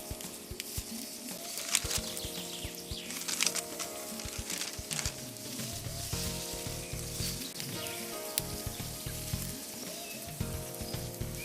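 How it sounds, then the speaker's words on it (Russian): A pot of water boils over a strong campfire, bubbling and sizzling steadily up close, with crackling pops and irregular low bursts. "На таком сильном огне вода закипает очень быстро."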